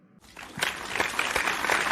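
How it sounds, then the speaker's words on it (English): Studio audience applauding to welcome a guest, clapping starting abruptly and swelling into a steady dense patter over two seconds. "A round of applause as we welcome"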